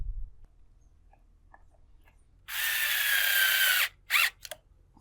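A power driver with a 7mm socket runs down carburetor nuts on a Troy-Bilt TB110 string trimmer, a steady whir of about one and a half seconds followed by two quick short bursts, close and fairly loud.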